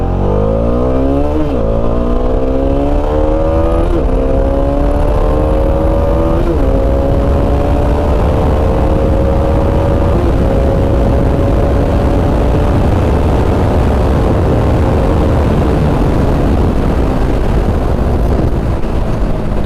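A Bajaj Dominar 400 motorcycle accelerates hard through its gears, the loud engine note climbing, dropping at each shift and climbing again over about twenty seconds, with heavy wind roar.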